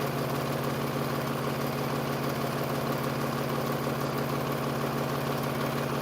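A sewing machine stitches quilt fabric strips together with a steady, continuous mechanical hum, unbroken and even for several seconds with no talking.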